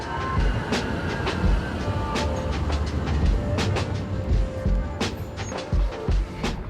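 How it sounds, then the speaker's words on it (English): A tram in Poland rolls along rails at night with a steady low rumble and periodic sharp clicks and clacks from the wheels, close and continuous. "The last tram of the night is leaving in about 10 minutes"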